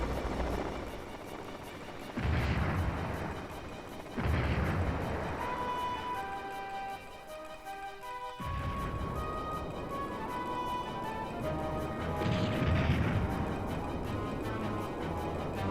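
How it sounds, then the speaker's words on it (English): Heavy bombing in the airship role-playing game Skies of Arcadia, with booming explosive blasts hitting in several waves over rumbling and a sustained game music score, loud and continuous. "They just bombed our house."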